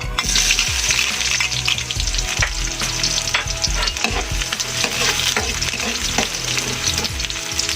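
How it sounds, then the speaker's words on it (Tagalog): Plenty of chopped onions hit hot cooking oil in a pan for sautéed noodles with sardines, a loud continuous close sizzle with frequent stirring scrapes and clinks and no talking. "Lagay na natin yung sibuyas."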